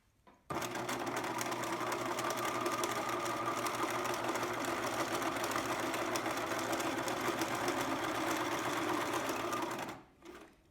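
A sewing machine stitches fabric for a child's dream pillow, running steadily at close range for about nine and a half seconds before stopping.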